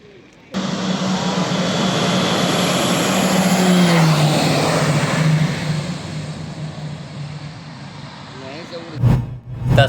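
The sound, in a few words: aircraft at Dumka airport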